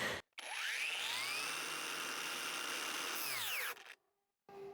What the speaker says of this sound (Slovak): Teraz vyskúšam počas brúsenia zatlačiť.